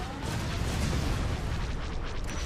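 A shipyard explodes in the space strategy game Empire at War as a dense, continuous roaring rumble. Crackling bursts and booms run through it, loud and sustained with no clear break.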